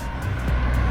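Traffic heading off the SCTEX and NLEX expressways rolls past on a road in the Clark area, a steady low engine rumble and tyre roar close by with no talk over it.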